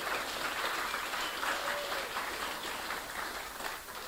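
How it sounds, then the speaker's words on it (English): An audience at an all-electric seaplane unveiling event applauds steadily, a continuous rustle of many hands clapping at moderate distance. "Give him an applause."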